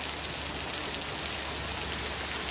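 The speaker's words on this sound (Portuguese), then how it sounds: "E tá uma chuva bem tranquila, gente." Gentle, steady rain falls outside a rural house, a continuous even hiss of drops on surfaces with no break and no voices.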